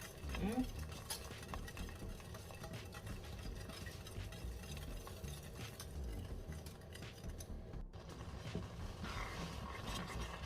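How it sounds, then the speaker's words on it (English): Oats mixture being stirred in a pot until it thickens, heard as quiet, continuous scraping and sloshing spoon strokes with soft sizzling underneath and no talking. "I'm just going to continue to mix until it's getting thicker"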